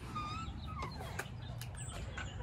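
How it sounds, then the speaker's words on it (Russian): Birds sing and chirp outdoors near a village balcony just after rain, bright thin calls scattered over a steady low background rumble, moderately distant. "Птички поют"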